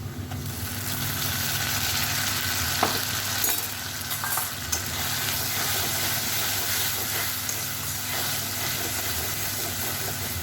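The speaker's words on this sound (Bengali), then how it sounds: "দেখুন আমি পেঁয়াজটাকে লাল করে ভেজে নিয়েছি। এখন বাটা মশলাটা দিয়ে দেব।" Ground spice paste sizzles steadily as it fries with browned onions in a pan while making kakya fish curry, a continuous loud frying hiss broken by a few sharp clinks of stirring, with no talk.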